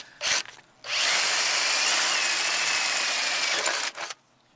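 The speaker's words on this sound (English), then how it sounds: "the adhesive pads should stop your drill slipping or wandering" A power drill bores into a plastic tailgate light housing cover on a Land Rover Freelander 2, with a short burst, then a sustained loud, steady whirring run of about three seconds, close up and without talk.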